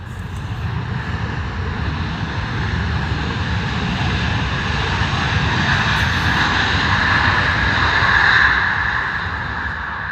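A Boeing US Air Force One jet at Stansted Airport gives off a loud, steady engine roar that swells slightly and stays constant throughout, with no talk.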